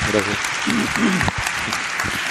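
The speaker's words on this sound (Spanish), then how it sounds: "Pido un aplauso para él" Applause from a talk-show audience, dense clapping running steadily throughout, with a voice speaking briefly over it near the start.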